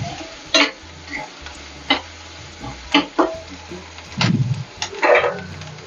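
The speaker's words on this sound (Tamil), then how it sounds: "வெங்காயம் கொஞ்சமாக வதங்கிடுச்சு." Onions sauté in a pan for a greens stir-fry, with a low background sizzle broken by scattered clicks and scrapes of a spatula, close by and fairly quiet.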